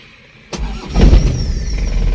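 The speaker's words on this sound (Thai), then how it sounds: "ฟังเสียงเครื่องยนต์กันหน่อย" Used Toyota Mighty-X pickup with a manual gearbox, started up close outdoors: silence, then a sudden crank that catches almost immediately and settles into a loud, steady idle with a slight rise in revs.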